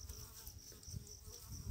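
A swarm of honey bees settling among rocks, a faint, steady droning hum that wavers slightly throughout, with no voices present.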